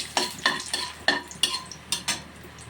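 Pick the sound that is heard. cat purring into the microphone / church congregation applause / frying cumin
frying cumin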